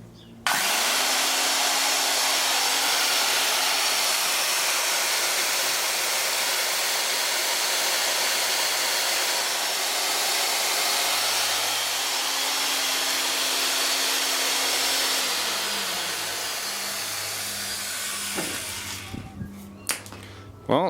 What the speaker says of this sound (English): There's a bit of sparking across the brushes, but it's a pretty decent motor.